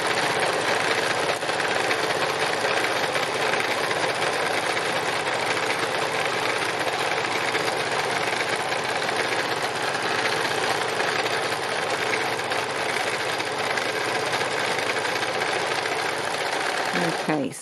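A sewing machine runs steadily for free machine embroidery, stitching random lines in one long, unbroken, close-up mechanical whir that stops abruptly at the very end.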